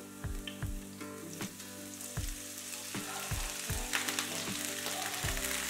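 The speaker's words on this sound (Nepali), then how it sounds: "अब यतिको ब्राउन हुने गरी फ्राई भएपछि हामी एड गर्दै छौं आलु" Potato pieces frying in hot oil over golden-browned onion for a Nepali okra curry, a steady close sizzle broken by repeated knocking thumps of a spoon stirring against the pan.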